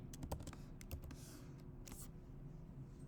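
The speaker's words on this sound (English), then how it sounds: "if you start typing these print statements" Typing on a computer keyboard during a coding session produces a quick run of faint, sharp key clicks in an uneven rhythm, close but quiet, with no talking.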